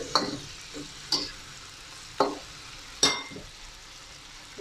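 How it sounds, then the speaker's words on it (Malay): Tofu and egg being stirred in a frying pan with soy sauce: a soft sizzle runs underneath while a spatula scrapes the pan in four sharp, separate strokes about a second apart. "Kita masukkan kicap cair dan kicap pekat. Jadi kita gaul."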